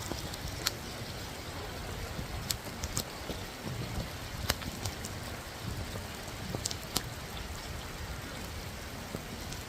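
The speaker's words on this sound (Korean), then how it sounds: "비가 엄청 옵니다." Heavy rain pours down steadily outdoors in a city street after a museum visit, a dense continuous hiss of drops with occasional louder splashes and drips close by, no voices.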